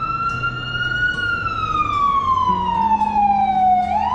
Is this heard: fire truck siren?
yes